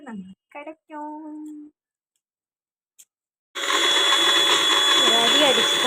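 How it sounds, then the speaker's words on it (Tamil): After a few spoken words and a pause, a kitchen mixer grinder starts up blending onion, curry leaves and garlic, its loud whirring whine running steadily to the end. "2 தடவை மிக்சியில் போட்டு நல்லா அடிச்சுக்கோங்க"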